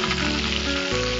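Prawns frying in hot oil give a steady, close sizzle with a constant crackling hiss through the whole moment, no voices over it.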